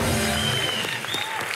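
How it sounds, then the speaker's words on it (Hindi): A studio audience at a comedy talk show claps in a short, even burst of applause lasting under two seconds, with faint tones in the background. "आपकी तालियां बजती रहनी चाहिए"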